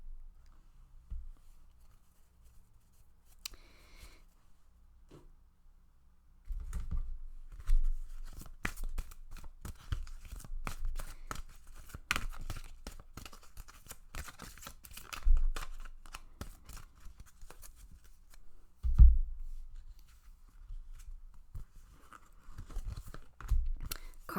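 Tarot cards are shuffled by hand, close and fairly quiet, starting with sparse light flicks and then a longer run of dense papery riffles, taps and soft slaps with a few sharper knocks, no voice heard.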